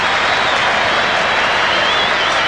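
A large Australian rules football crowd in a stadium at Carlton vs Brisbane cheers and applauds loudly after a goal, a dense, sustained roar of noise.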